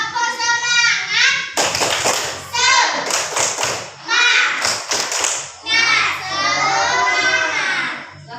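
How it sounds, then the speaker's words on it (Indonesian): A class of children does a rhythmic spirit clap, with sharp bursts of clapping and thumps alternating with young voices chanting along in close, lively groups. "coba kita bertepuk semangat"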